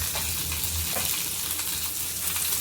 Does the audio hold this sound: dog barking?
no